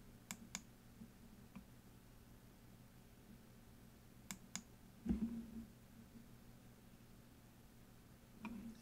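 A computer mouse clicks in a quiet room: a few sharp, faint clicks, mostly in quick pairs, spaced by seconds of near silence with a soft rustle in between.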